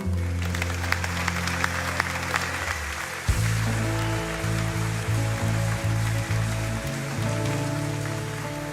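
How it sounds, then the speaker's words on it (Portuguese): A church congregation applauds during a worship service, dense steady clapping like rain that runs the whole stretch, with sustained organ or keyboard chords and some voices underneath. "Aplauda ao Senhor."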